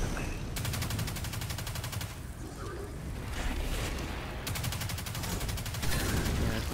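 Rapid machine gun fire in the video game Destiny 2, two sustained bursts of fast, evenly spaced shots separated by a short gap, loud and close over rumbling game noise.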